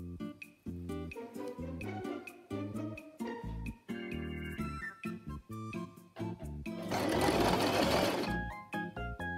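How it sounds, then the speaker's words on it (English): Sewing machine stitching a fabric face mask, close and fairly loud, in short uneven runs of rapid chattering stitches broken by brief stops, with one denser, noisier stretch near the end. "So let's get sewing."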